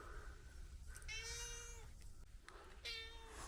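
A cat sheltering up in the eaves of a house gives two drawn-out meows, fairly faint and distant against a low background rumble.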